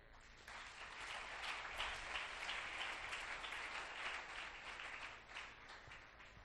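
A church congregation claps in sustained applause, a soft, dense patter from many hands that swells and continues for several seconds before easing slightly.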